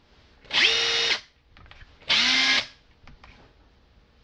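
Makita brushless impact driver run in two short bursts, a loud high whirring motor that rises in pitch as it spins up and cuts off, with quiet handling sounds between.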